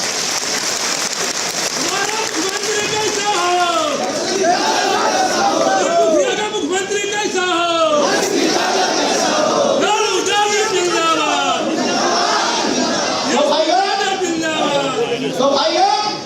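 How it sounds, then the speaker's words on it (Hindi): A large crowd at a political rally claps and applauds loudly and continuously, a dense, sustained patter. Whistles and cheers ring out above it, with people shouting and chattering throughout. "ताली बजाइए।"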